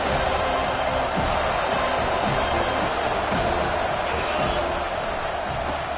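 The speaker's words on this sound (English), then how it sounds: "this crowd trying to help keep them there" A football stadium crowd roars in a dense, continuous wash of cheering that stays loud and steady from start to finish.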